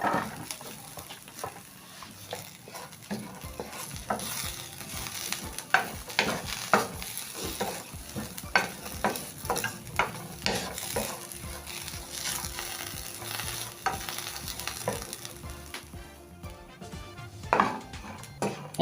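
Coconut flakes stirred in a pan on the stove, with a spatula scraping and tapping against the metal in irregular strokes over a soft sizzle, close and fairly quiet.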